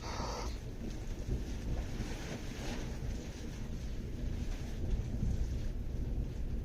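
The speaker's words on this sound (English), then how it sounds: "Ah, we appear to have some thunder there." Distant rolling thunder rumbling steadily over a few seconds alongside rain and wind noise, heard outdoors near a workshop during a Volkswagen Type 2 restoration.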